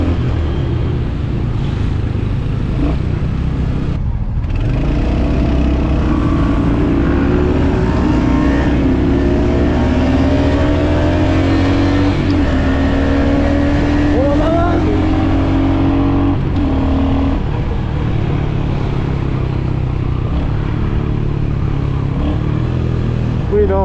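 Royal Enfield HNTR 350 motorcycle with a torquey single engine accelerating, its loud exhaust note rising in pitch through repeated pulls and gear changes, close and continuous, with talk mixed in at times.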